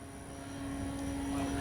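An FMS Ranger 1800mm RC airplane lifts off and flies, its steady electric motor whine holding a constant pitch and rising slightly in loudness over the short stretch, moderately distant with no speech.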